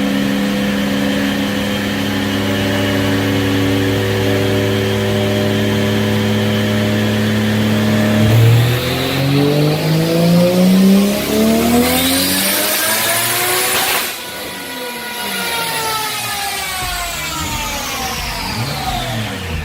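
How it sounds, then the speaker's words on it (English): A car engine on a dyno climbs through a long, loud rev in rising sweeps, eases off, then revs up again, with no talking over it. "Here we go, dyno pull 2."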